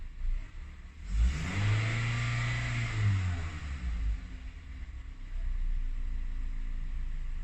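A car engine revs up to about 2500 RPM from idle, with the pitch rising, holding and falling back, while someone talks over it throughout.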